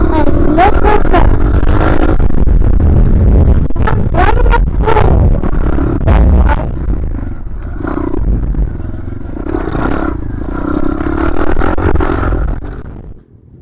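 A Yamaha TTR 125cc pit bike engine revs loud and close in repeated bursts as the throttle is worked, with rough mechanical clatter throughout.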